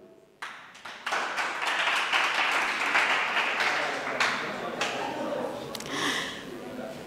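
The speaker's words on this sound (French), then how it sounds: "On les applaudit très très fort." An audience applauds prize winners from a secondary school at an awards ceremony. The clapping is broad and sustained, starting after a brief quiet moment and holding steady to the end.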